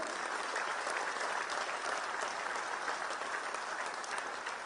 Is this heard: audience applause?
yes